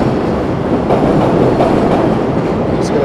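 Loud, close rumble of a passing train with a continuous roar and faint rail clatter, filling the whole stretch without a break.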